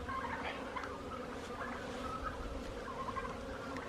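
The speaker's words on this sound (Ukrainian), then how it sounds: "ці індики, ну прям бісять" Turkeys gobble and chatter repeatedly in the background beside a beekeeping apiary in winter, a busy overlapping flock sound at moderate distance with no talking.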